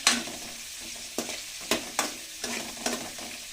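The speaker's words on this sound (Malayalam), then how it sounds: "ഇത് നല്ലവണ്ണം വാട്ടിയെടുക്കാം." Brinjal sizzles in a pan as it is sautéed for Tamil Nadu style kathirikka pulingari, with about six sharp spatula scrapes and stirs breaking through the soft frying hiss at irregular intervals.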